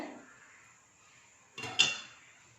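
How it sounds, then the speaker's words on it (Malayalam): A frying pan is set down on a gas stove while making parippu vada, giving a short metallic clatter and scrape of two close knocks after a quiet stretch of low kitchen hiss. "നമ്മൾ ഗ്യാസ് സ്റ്റവ് ഓൺ ചെയ്തിട്ട് ഒരു പാൻ അടുപ്പത്ത് വെച്ചേക്കാണ്"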